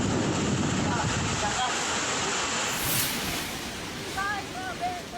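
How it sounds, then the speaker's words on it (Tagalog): Strong typhoon wind roars with heavy rain in a continuous loud wash, gusts swelling and easing, with faint higher whistling tones over the noise. "Para bang may buhawi sa sobrang lakas ng hangin na sinabayan pa ng malakas na ulan."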